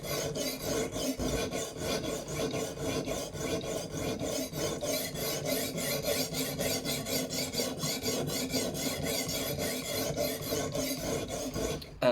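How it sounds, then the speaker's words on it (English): A knife blade is drawn repeatedly across a fixed-angle sharpener's stone in quick, steady rasping strokes, the even scraping continuing close and loud throughout without pause. "I was sharpening this particular knife"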